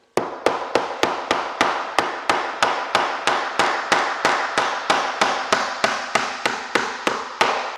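A hammer drives nails into Douglas fir wood cladding in steady, evenly spaced sharp blows, about three strikes a second, loud and close with short ringing decays and no voices.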